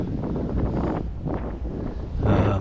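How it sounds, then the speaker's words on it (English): Strong gusts buffet the microphone at a beach during kitesurfing, roaring in uneven surges that rise and fall, loud and close with no clear talk. "now it's totally windy, right?"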